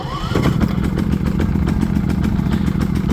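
A small generator engine runs loud and close on its built-in choke, sputtering with an uneven, rapid chugging rhythm and a rough clattering idle.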